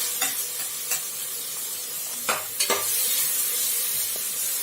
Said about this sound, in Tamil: இப்போ இதையும் நல்லா வதக்கி விட்டுடலாம்.